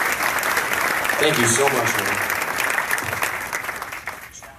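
An audience at a drag racing event applauds Eddie, with dense, steady clapping that fills the room and slowly fades, while someone speaks briefly over it.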